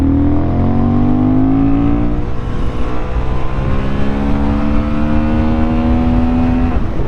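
A Honda CB750 Hornet motorcycle engine while riding, a loud steady drone that climbs in pitch through the gears, shifting and pulling again, with wind noise throughout and no talk.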